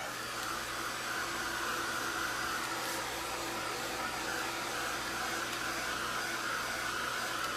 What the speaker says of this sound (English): comes the heat gun.